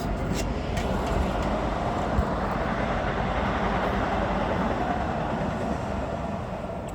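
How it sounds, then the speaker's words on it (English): A train passes nearby as a steady, loud broadband rumble and roar that holds evenly throughout, with no other distinct events standing out. "Oh, the train is passing. Train moment."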